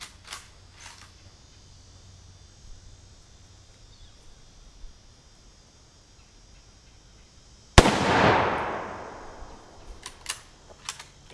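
A single loud 30-06 rifle shot fired at an air conditioner in a backyard, a sharp crack with a decaying echo, set against quiet surroundings and a few small clicks.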